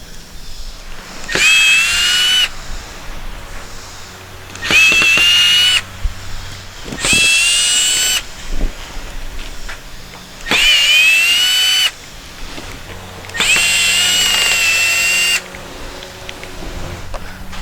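A power drill backs screws out of the inner trim on a rotten cargo trailer door, whirring in five separate loud bursts of a second or two each, with quieter pauses of handling between them.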